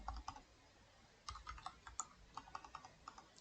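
Keys clatter on a computer keyboard as code is typed, a short burst of clicks, a pause, then a longer run of quick, fairly close keystrokes at low volume.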